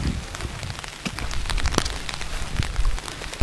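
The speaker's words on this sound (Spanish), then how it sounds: "está lloviendo mucho" Heavy rain pours steadily around houses on residential lots, a dense, continuous hiss broken by scattered louder drops and splatters on nearby surfaces.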